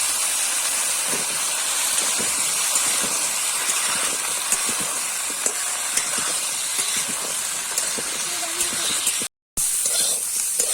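Potatoes and cauliflower frying together in oil in a village kitchen, giving a loud, steady sizzle and hiss that runs unbroken apart from a momentary dropout near the end.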